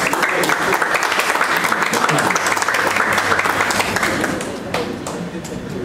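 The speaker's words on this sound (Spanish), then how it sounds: "Un aplauso para Gonzalo." An audience at the Espíritus Urbanos art exhibition opening bursts into loud, sustained clapping for the artist Gonzalo, a dense wash of hands that eases slightly toward the end.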